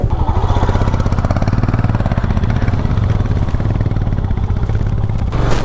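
A Royal Enfield Meteor 350 motorcycle engine runs steadily and loudly up close, a continuous low throbbing rumble that holds for several seconds without a break.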